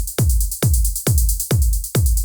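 Electronic drum loop of a DS hi-hat sequenced by the MDD Snake Max for Live device, with a bright, sustained high metallic hiss over five evenly spaced deep kick-like thumps in a steady rhythm, close and loud with no talking.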